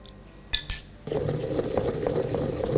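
A spoonful of brandy and a couple of spoonfuls of water go into a pounded paste: two sharp clinks of a spoon on a dish, then a steady wet, scraping mix with small taps.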